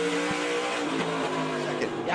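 An SRX race car at Lucas Oil Raceway, its engine holding a steady, loud roar with a sustained tonal drone throughout a short pass, likely heard under race commentary.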